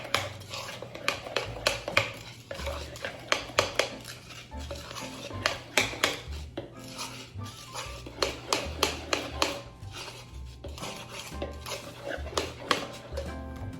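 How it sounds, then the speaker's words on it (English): A utensil stirring flour and baking soda in a bowl for German pfeffernüsse cookies, giving rapid repeated scraping and clinking strokes in bursts, with a low hum and a few faint sounds like a voice underneath. "So 1/3 of the flour, I'm gonna add the baking soda and then just start stirring it."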